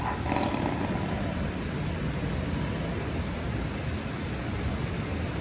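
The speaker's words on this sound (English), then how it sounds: "The growl had an almost human quality to it" A menacing creature growls as a low, steady rumbling roar that stays loud and broad throughout, almost like rushing noise, with no voices present.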